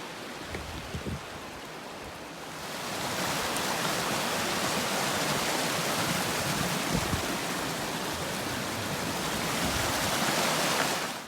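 Creek water rushing steadily along a hiking trail, a broad continuous wash of flowing water that swells in after a quieter start and then holds loud and close, with no talk over it.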